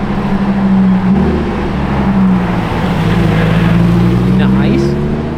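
A Lamborghini Urus SUV drives past on a public road, its engine note a loud, steady drone that rises slightly as it nears and carries through the whole pass, with traffic noise around it.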